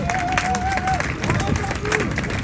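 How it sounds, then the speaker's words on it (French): Audience at a public meeting on pensions applauding, scattered claps under crowd murmur and a faint tonal whine, moderately loud and fairly even across the moment. "On peut applaudir."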